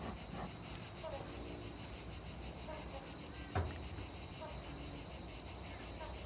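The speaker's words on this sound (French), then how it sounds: "on commence déjà à enfumer nos abeilles" Honeybees droning around a hive while the beekeeper starts smoking them, a steady faint buzz with a high whining tone throughout, heard outdoors with light background noise and no talk.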